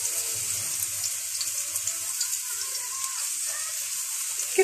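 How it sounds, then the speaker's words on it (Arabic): Sliced onions frying in hot oil, a steady, close hiss and crackle of sizzling that holds evenly throughout with faint low background rumble. "بعد ما سخنت الزيت غادي نديرو البصله هكا شرائح حتى تقلى البصله"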